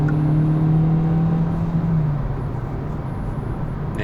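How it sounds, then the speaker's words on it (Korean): A second-generation Kia Niro hybrid's 1600cc engine revs hard at full throttle, a loud, steady drone that holds high and then eases slightly toward the end, with no talking. "네, 엔진 소리가 이제 좀 깨어나는 것 같이 들릴 거예요"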